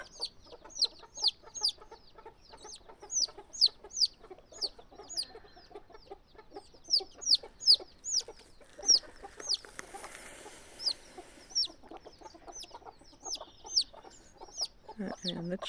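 Hens cluck repeatedly near a brood of chicks, whose high peeping chirps run almost continuously throughout, with a brief rustling burst midway.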